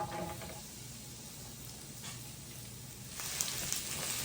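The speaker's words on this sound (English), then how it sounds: "You hear that sizzle?" Onions and peppers frying on an electric griddle give off a soft, steady sizzling hiss, fairly quiet and continuous with a few brief crackles.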